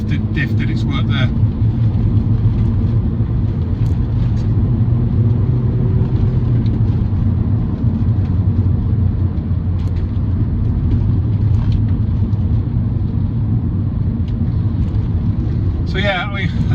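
A MINI Cooper S JCW GP with a limited slip differential drives along, its engine and road rumble a steady low drone heard from inside the car, with a voice talking over it.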